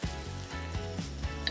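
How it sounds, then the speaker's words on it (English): Crushed ginger and a teaspoon of garlic sizzle steadily in a hot pan, a continuous close frying hiss with soft stirring bumps and no talking. "I just want to saute this around for a little bit, probably about a minute and a half to get the aromatics"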